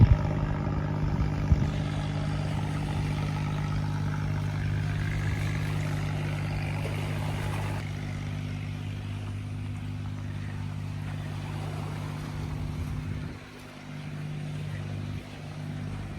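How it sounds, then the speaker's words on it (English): An old boat engine chugs steadily off Hon Tam Island near Nha Trang, Vietnam, with a low, throbbing drone and a constant rumble, continuing without a break and dipping slightly near the end. "Just a noisy old boat chugging along, but I like to see them."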